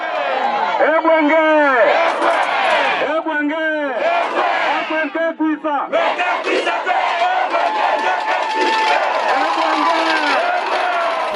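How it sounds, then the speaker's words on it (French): A large crowd at a political rally chants and cheers loudly in rhythmic, repeated bursts, with massed voices rising and falling close by and shouting carrying through between the chants. "plusieurs fois interrompue par les acclamations de la foule"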